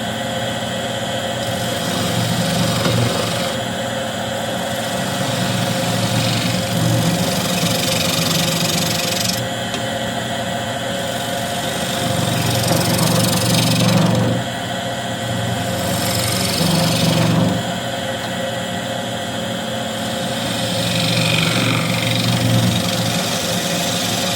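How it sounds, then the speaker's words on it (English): Wood lathe spinning a turned box blank while a spindle gouge shapes it, a steady motor hum with recurring rougher bursts of cutting noise that swell and fade over the stretch, no talking. "we can reshape this whole thing with the spindle gouge"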